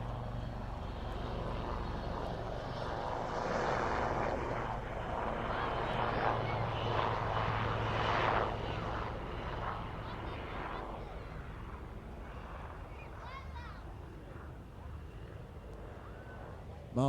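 Military helicopters move down the fly line at the RAF Waddington Airshow, a broad rotor and engine roar that swells in the middle and then eases, heard at a distance.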